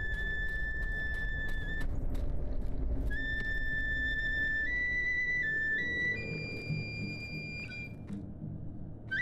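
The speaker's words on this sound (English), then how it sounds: "I can hear the whistle." A whistle sounds in the Sekiro: Shadows Die Twice video game: clear sustained tones shift in pitch in steps over a low ambient rumble, with no voices.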